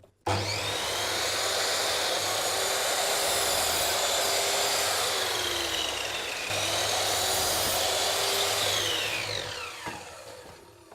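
Power tool cutting wood pieces for a shelf, a loud continuous whining buzz held steady for about ten seconds with a brief dip midway, then winding down at the end.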